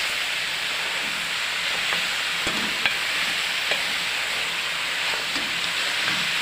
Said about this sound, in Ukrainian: Так, тушкуємо кабачки. Це робимо на великому вогні, щоб воно тушкувалося швиденько, жарилося.